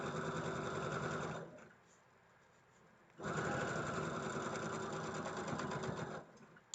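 A sewing machine stitches a quilt block in two fast, steady runs of whirring needle strokes with a short quiet pause between, close and moderately quiet.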